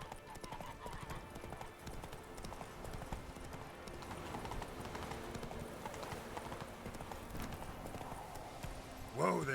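A horse gallops in The Witcher 3 video game, its rapid rhythmic hoofbeats pounding steadily throughout, with a voice talking over them and a brief louder burst at the end.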